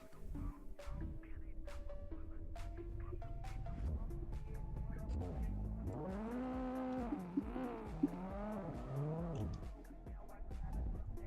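A car drifting with a clutch-kick initiation: the engine revs hard through rising and falling pitches while tires squeal in long wavering bursts, close and loud, with intermittent clicks and knocks from the cabin.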